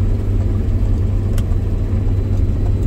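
A driverless grain cart tractor drives toward the listener with its engine running steadily in a low rumble, close and fairly loud, with no voices.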